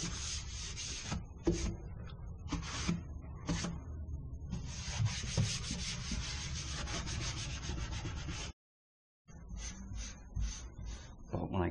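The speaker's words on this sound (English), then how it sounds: "But when I get done wiping these vents" A dry rag wiping car air vents, producing repeated soft rubbing and scrubbing strokes close by, in irregular bursts with a short silent pause near the end.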